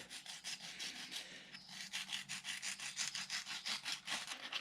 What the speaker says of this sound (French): Ah là j'y vais avec ma lime